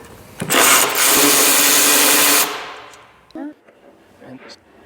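A power tool whirs loudly for about two seconds while removing a headlight bolt from behind a bracket on a car, then stops, followed by faint clinks and brief talk.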